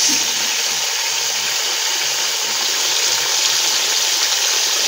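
Water with baking soda and detergent being stirred by hand for soaking white laundry, a steady hissing, sloshing wash that holds evenly throughout with no talking.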